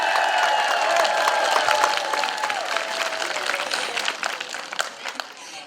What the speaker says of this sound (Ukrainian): Оплески пані Ірині